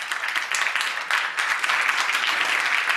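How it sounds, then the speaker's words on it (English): A conference audience at the GLOBSEC 2020 Bratislava Forum applauds panelists after a session on cities, a loud, full round of clapping that swells slightly partway through and holds steady to the end. "please give them a huge round of applause"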